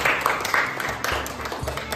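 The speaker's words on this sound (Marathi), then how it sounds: "पांडूसाठी टाळ्या वाजवा एकदा" A group of schoolchildren claps for a classmate during a classroom game, a short burst of dense hand claps close by that carries on under a talking voice.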